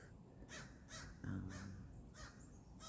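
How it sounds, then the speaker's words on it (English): A crow caws repeatedly outdoors, about five harsh calls spaced roughly half a second apart, moderately near, with no talking. "Thank you, Crow. Crow stopped by."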